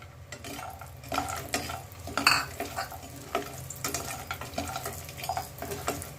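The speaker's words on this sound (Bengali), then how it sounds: "এবার এর মাঝখানে বড়িটা দিয়ে দিচ্ছি ভাজার জন্য।" Lentil dumplings (bori) fry in oil for a fish and eggplant curry, giving a steady low sizzle with scattered clinks and stirring scrapes, one brighter spitting burst near the middle; no talking.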